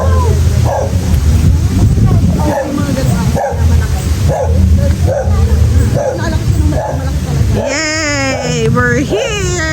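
Several Dobermans bark loudly and repeatedly in rapid bursts at a gate, with whimpering yips near the end. People talk over the barking throughout.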